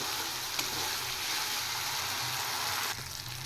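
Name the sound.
spice paste (masala) frying in oil for Bengali fish curry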